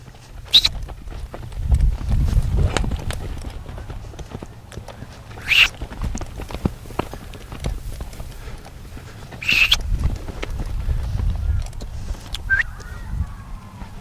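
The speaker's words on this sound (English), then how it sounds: "let's put him into a lope." Hooves of a wild mustang loping during early saddle training thud in a steady, repeating rhythm at moderate distance, with occasional sharp clicks and faint fowl calls in the background; no talking.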